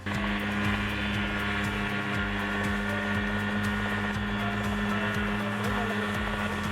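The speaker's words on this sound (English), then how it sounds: "Here is a homemade helicopter like you rarely see." A homemade helicopter with a simple metal frame and open seat flying above a field, its engine and rotor making a loud, steady droning roar with rhythmic blade chopping throughout, close and continuous, no voices.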